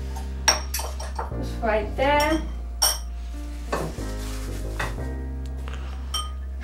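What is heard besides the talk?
scooping cookies and cream Oreo dessert into a bowl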